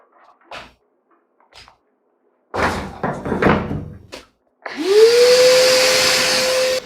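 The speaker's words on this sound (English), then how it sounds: "I put the heater in front of the air intake of the shop vac, so that way it blows slightly warmer air into the tank." A few knocks and clunks come first, then a shop vac starts up with a rising whine and settles into a loud, steady blowing roar as it pushes heater-warmed air into a motorcycle fuel tank being restored.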